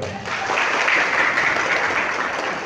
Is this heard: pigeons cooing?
no